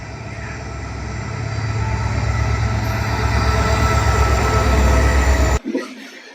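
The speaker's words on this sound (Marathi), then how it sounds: "तर गाईज फायनली आपल्याला ट्रेन मिळालेली आहे." A passenger train rolls past on the line near the Shegaon temple, a loud, steady rumble of wheels and carriages that swells over several seconds, then cuts off abruptly near the end.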